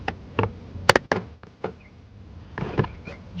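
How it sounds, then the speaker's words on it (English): Sharp plastic pops and snaps come in irregular clusters, close and loud, as interior door trim clips on a BMW E90 give way one after another with short pauses between. "As you can hear, the clips are coming off."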